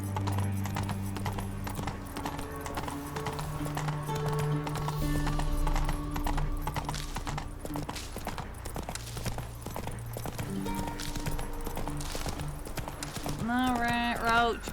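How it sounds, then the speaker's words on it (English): Steady clip-clop of a galloping horse's hooves in The Witcher 3 video game, a continuous rhythmic beat under game music throughout, with what may be a brief whinny near the end. "I'm riding Roach and following Roach"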